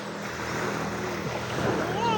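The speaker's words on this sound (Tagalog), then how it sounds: "Dito na tayo sa Cubao Beach." Ocean waves washing ashore at Cubao Beach at sunrise, a steady broadband surf wash with wind on the microphone, fairly close and continuous for the whole stretch, rising slightly toward the end.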